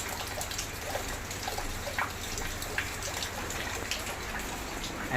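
Heavy afternoon rain falls in a steady, even hiss, with scattered drops and trickles audible close by.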